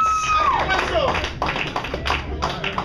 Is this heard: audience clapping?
yes